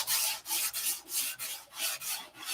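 Hand sanding on a wooden piece being prepared for paint, a steady back-and-forth rasp of about eight close, even strokes with a regular rhythm, with no voices.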